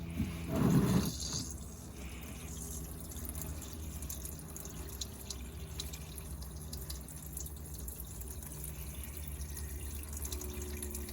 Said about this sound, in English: Now we're draining the oil from the engine, right?